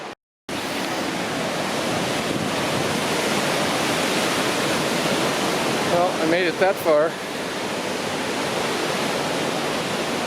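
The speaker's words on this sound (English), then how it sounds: "The river's really flowing due to recent rains." River swollen by recent rains rushing along the Mist Trail toward Vernal and Nevada Falls, a loud, continuous roar of whitewater, with a person speaking briefly over it.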